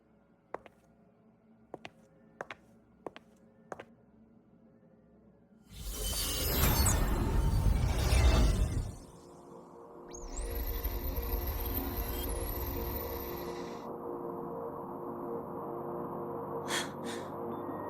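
Playback of a cassette recording in Wuthering Waves: a few sharp clicks, then a loud burst of hissing white noise for several seconds, a brief dip, and a second sustained noisy stretch with a thin high whine over it.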